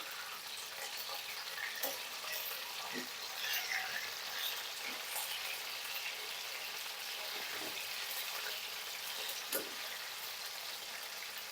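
Marinated pork frying in oil gives a steady, fairly quiet sizzle with faint crackles and occasional soft pops throughout, with no talk over it.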